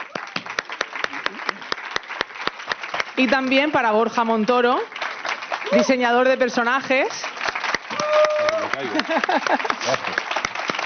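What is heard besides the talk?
audience applause for the interviewer Juan Pando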